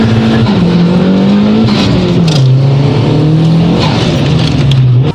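The engine of a turbocharged Holden VL running about 8.5 PSI of boost drones loudly and steadily close by, its pitch stepping down in stages with hissy, fluttering bursts on top, for about five seconds with no voices.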